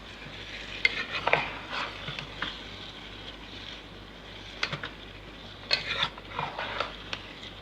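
Spoon stirring spiced vegetables with salt, black pepper, red chili powder and dried coriander in a pan for vegetable biryani, with soft intermittent scraping and clinks over a low sizzle, no talk.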